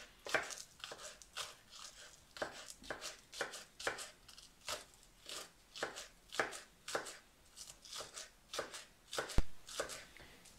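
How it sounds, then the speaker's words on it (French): A knife chopping food into tiny cubes on a cutting board, quick rhythmic taps in short bursts, close and fairly quiet, with no speech. "on va venir ici le couper en petits cubes, tout petits cubes"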